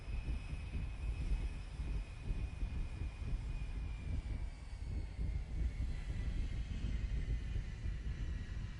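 B-52 bomber engines in the War Thunder video game, a steady, loud, droning rumble with a thin high whine running continuously throughout, no talk over it.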